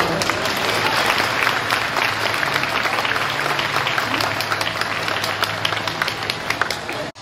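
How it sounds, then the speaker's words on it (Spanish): Loud, sustained applause from a crowd at a primary school graduation, dense clapping that holds steady for several seconds before cutting off abruptly. "Recibámoslos también con un fuerte y caluroso aplauso."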